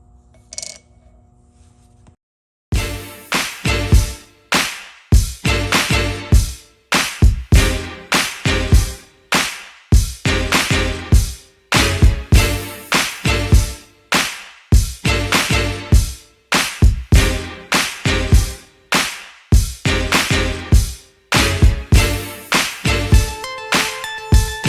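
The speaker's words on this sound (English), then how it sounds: "Now for the fun part of hammering." Rapid, sharp hammer strikes on a copper Damascus kris dagger ring out in quick irregular bursts, loud and close, continuing for many seconds after a brief quiet start.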